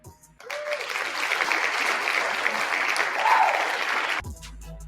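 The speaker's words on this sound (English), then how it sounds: "can we give her a round of applause real quick?" Audience breaks into applause, a dense, even wash of clapping that starts abruptly, holds steady for about four seconds, then cuts off sharply.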